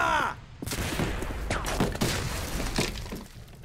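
A flashbang grenade going off in a video game, with a sharp crack and shattering burst followed by a ringing, crackling wash of noise that slowly fades.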